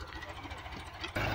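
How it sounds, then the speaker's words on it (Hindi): A tractor engine labours while pulling down trees with a rope or chain, a rumbling mid-pitched drone that swells suddenly louder near the end, outdoors. "अब इन्होंने ट्रैक्टर की मदद से ये जो दरख्त हैं ये इन्होंने खींचने हैं और ये इनको ये गिरा देंगे।"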